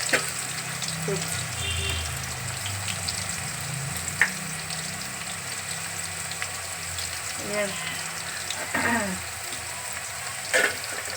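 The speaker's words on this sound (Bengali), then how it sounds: "এইটা একটু ভাজা একটু ভাজা হোক একটু আলু তো যাক" Potatoes and spices sizzle steadily in a hot frying pan, close up, with occasional clinks and scrapes of stirring and a faint tap of utensils against the pan.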